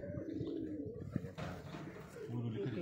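Pigeon cooing rolls on in low, throaty bursts from close range while someone talks over it, with a brief shuffling rustle midway.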